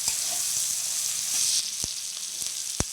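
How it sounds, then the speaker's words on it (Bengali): Food fries in a pan, a steady bright sizzle running throughout, while a spatula stirs it with a couple of sharp scraping knocks near the end; no one speaks. "একটু ভালোভাবে নেড়ে নিচ্ছি, যাতে করে লেগে না পড়ে।"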